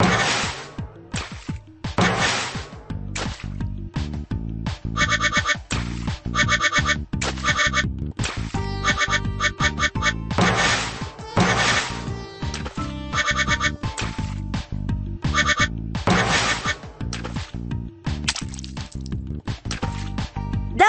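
Quacking rubber duckies in a Shimmer and Shine children's video game, repeated bright squeaky quacks and squishy bursts over cheerful game music, continuous and close.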